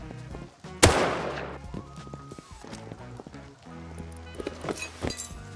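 A single sharp gunshot from a gun in the video game Rust rings out, followed by softer clinking and footstep-like game sounds.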